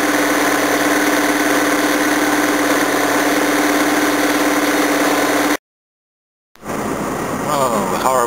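A worn, slow small car's engine idles with a steady rumble and vibration after running for about ten minutes, then cuts out for a moment before restarting; a voice speaks briefly near the end.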